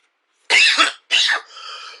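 Two harsh, loud coughs in quick succession, the second trailing into a raspy wheeze, close up.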